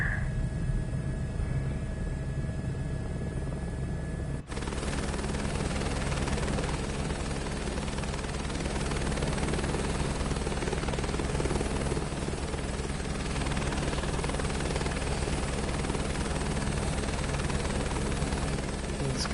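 A helicopter in the game Microsoft Flight Simulator 2024, played in VR, gives off a steady droning rotor and engine hum that runs unbroken for the whole stretch, loud and even, with no talking.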